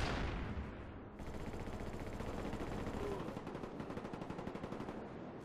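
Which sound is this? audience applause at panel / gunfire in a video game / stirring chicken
gunfire in a video game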